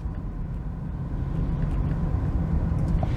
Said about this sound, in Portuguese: vamos dar uma acelerada